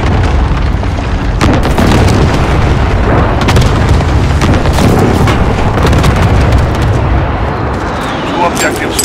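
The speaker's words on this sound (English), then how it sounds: "Friendly precision airstrike on the way." Precision airstrike explosions rumble through a Call of Duty Modern Warfare Domination match, a dense, loud barrage of booms and bursts layered with steady battlefield noise and radio chatter.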